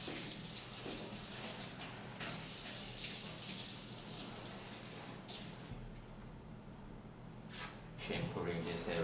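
Tap water pours steadily onto a Pomeranian's head during a grooming bath, a close running splash with a few louder gushes and spray bursts as the dog is rinsed.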